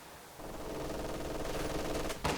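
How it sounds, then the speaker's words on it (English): MG42 machine gun fire in the strategy game Company of Heroes 2: a sustained dense burst of rapid shots, continuous and fairly distant within the battle mix, ending with a sharper crack. "And an MG42 suppressing the conscripts on the right-hand side of the map"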